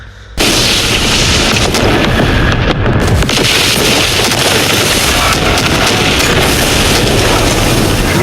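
A big cinematic explosion from the Toxic movie trailer erupts after a brief quiet start, then rolls on as a loud, dense roar of blasts and rumbling debris that fills the whole clip, with no talking.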